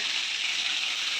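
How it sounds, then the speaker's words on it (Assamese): Fish frying in a pan in a home kitchen gives a steady, close, bright sizzle that runs unbroken with no talk. "এয়া আহি মাছ ভাজি আছে"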